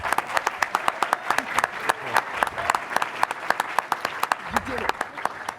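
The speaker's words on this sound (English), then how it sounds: "Let's please give her a very warm round of applause." A round of applause from the audience at a VR expo storytelling panel, moderately quiet, with distinct individual claps standing out from a steady patter, brief voices murmuring underneath.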